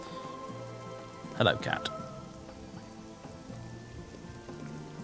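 Steady rain falls across the outdoor world of the video game Oblivion, a soft continuous hiss under a man greeting a character, with a brief louder rustle midway.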